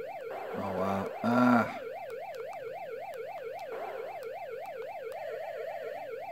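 A retro NES police car siren from Matchbox Motor City Patrol wails in a steady, rapid rising-and-falling electronic tone throughout, briefly joined early on by a short buzzy game sound effect.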